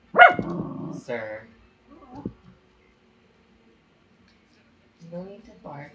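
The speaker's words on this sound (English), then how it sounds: "No need to bark, everything's okay." A dog in The Sims 4 gives a sharp yipping bark, then a couple of softer barks and whimpering yips, close and clear, with a quiet pause before a final short bark.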